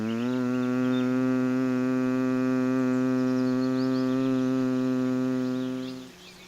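A person doing Bhramari Pranayama, the bumblebee breath, hums one steady, buzzing low tone for about six seconds with the ears closed, close and alone, before it fades out.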